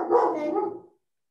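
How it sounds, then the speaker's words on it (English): A pet dog gives one short, muffled bark-like vocalization close by, a single rough burst that fades out within a second, then silence. "The dog is answering you."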